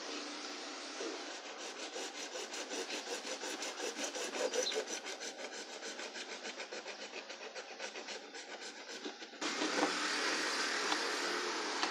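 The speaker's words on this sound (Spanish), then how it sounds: "Con la sierrita de corte vamos a cortar." A small hand saw cuts through PVC pipe, its rapid back-and-forth rasping strokes running steadily and close up for most of the stretch, then shifting to a denser, brighter rasp near the end; no one speaks.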